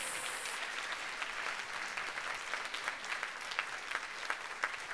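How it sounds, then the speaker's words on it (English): An audience gives another round of applause for a guest at a Transforming Lives event with Dinesh Raut, dense steady clapping filling the room for the whole stretch, with no voices above it. "Let's give him another round of applause."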